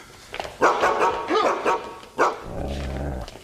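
A half-wolf dog gives a few sharp, loud barks close by, followed by a lower growling whine toward the end.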